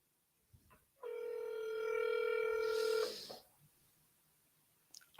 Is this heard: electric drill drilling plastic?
no